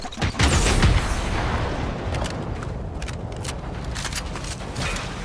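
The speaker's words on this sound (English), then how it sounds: "Big explosion." A loud boom bursts in Fortnite gameplay, followed by a dense rattle of gunfire and sharp game effect clicks that continue at a steady level afterward.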